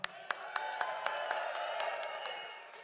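A large outdoor crowd at an Alberta sovereignty rally claps and cheers steadily, with a broad wash of applause and a few sharper claps cutting through at regular intervals.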